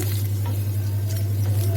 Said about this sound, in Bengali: এই যে ডিম ভাজা হচ্ছে,